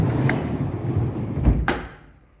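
Newly installed drawers in a GWM Cannon ute slide open and shut, with rolling runner noise and a sharp knock as one closes, close by with no talking.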